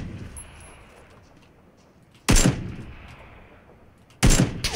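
Two sharp, loud gunshots from PUBG (Battlegrounds), spaced about two seconds apart, each a broadband crack with a short ringing tail over quiet ambient background.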